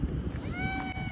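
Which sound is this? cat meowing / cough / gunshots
cat meowing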